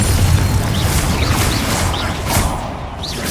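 Confringo blasting spell cast in Hogwarts Legacy, a loud dense rumbling blast amid continuous combat noise, with faint whooshing spell effects layered over a heavy low-end roar.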